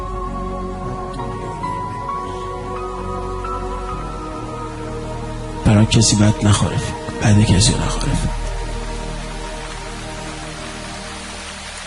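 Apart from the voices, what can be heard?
rain falling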